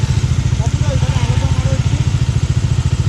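Motorcycle ride on a rough, broken mountain road, the engine giving a loud, rapid, even throb close up, with wind noise and a voice speaking over it.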